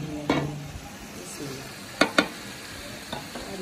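Tomatoes frying in a pan for golden pulao give a continuous soft sizzle, broken by a few sharp utensil clicks and scrapes against the pan.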